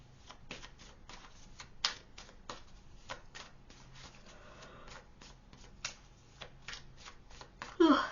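Tarot cards being shuffled by hand: quick riffling flutters and soft snaps repeating in an irregular rhythm, close and quiet, ending with a sharper burst of card noise.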